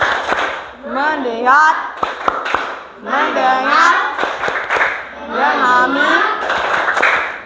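Elementary class 6E in an Indonesian primary school performing the rhythmic tepuk fokus clap chant, children chanting together with sharp handclaps punctuating the loud, energetic group voices in a classroom.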